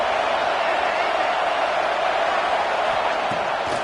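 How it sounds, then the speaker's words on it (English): A football stadium crowd roars steadily to urge its defense to hold, a dense, constant wall of noise with no break. "this crowd imploring its defense to stand firm"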